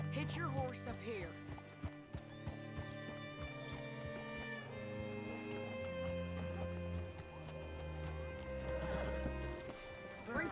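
Horse hooves clip-clopping in the Red Dead Redemption 2 video game, a steady run of hoofbeats with a horse whinny, set against a continuous music and ambience bed with speech over it.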